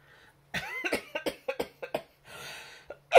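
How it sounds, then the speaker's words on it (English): A person coughs repeatedly in a quick, hacking series of short bursts, followed by a breathy exhale, close and fairly quiet. "I'm gonna start coughing really bad."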